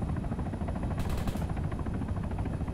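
Helicopter rotor chop from the Arma 3 Altis Life game mode pulses steadily underneath dense gunfire-like crackle, a fairly faint, continuous thrum with a brief brighter burst partway through and no voices.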